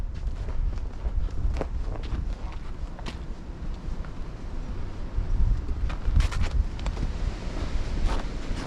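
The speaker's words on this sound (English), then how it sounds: "here comes the wind again" Strong wind gusts roar and buffet outdoors after a blizzard, a steady loud rush with rising surges and rumbling microphone buffeting, plus scattered crunching sounds like footsteps in snow.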